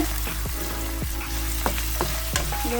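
Chillies sizzle and crackle steadily in a hot pan for devilled chicken, with several sharp scraping clicks of a utensil stirring at irregular intervals.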